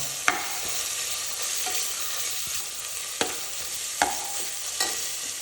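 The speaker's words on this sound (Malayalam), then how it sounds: "അതിൻ്റെ പച്ച മണം മാറുന്ന വരെ ഒന്ന് വഴറ്റാം." Crushed ginger and garlic sauté in hot coconut oil for chicken kurma: a constant close sizzle broken by a few sharp spatula knocks against the pan. No voices.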